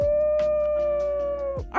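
A person imitates a wolf howl with a single long, steady, near tone that holds its pitch, then slides down at the end, alone.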